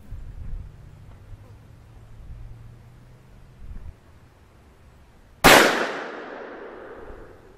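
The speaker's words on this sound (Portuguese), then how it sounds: "Vou efetuar mais um disparo no alvo de cima." A single sharp crack from a .17 HMR rifle fired at a target, loud and close, with a quick decaying ring after the shot, following quiet background rumble and light handling noise.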